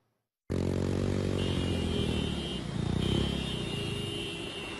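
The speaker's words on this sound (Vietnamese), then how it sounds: "Điều khiển xe máy lạng lách, đánh võng, rượt đuổi nhau, không làm chủ tốc độ." Motorcycles race and weave along a road, a loud engine drone that starts abruptly and holds steady, rising slightly as the bikes rev, with scraping clatter mixed in.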